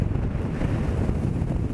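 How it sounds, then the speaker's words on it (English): Strong wind buffets the microphone during a paragliding flight in New Zealand, a dense, loud continuous roar with gusty pulses and no voices. "it's fucking windy."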